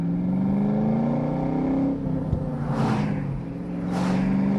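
A 2003 Ford Mach 1 with a 4.6 V8 and five-speed manual accelerates hard through second and third gear, its engine note rising steadily with brief pauses at each shift, loud and close, with no talk.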